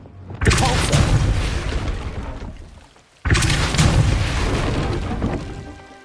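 Incendio fire spell cast in a Harry Potter video game, heard as two loud whooshing bursts, each flaring suddenly and then trailing off over a couple of seconds, the second cast right after a brief gap.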